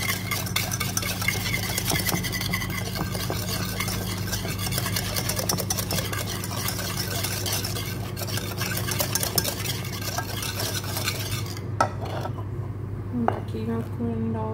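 A spoon stirs milk, added little by little, into chocolate ganache, scraping steadily against the bowl for a long stretch under a low kitchen hum before the scraping thins out near the end.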